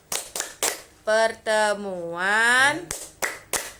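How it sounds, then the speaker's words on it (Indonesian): A group performs the P2K2 clapping routine, sharp rhythmic hand claps at the start and end around a stretch of chanted, sung voices. "Yuk kita sama-sama tepuk P2K2."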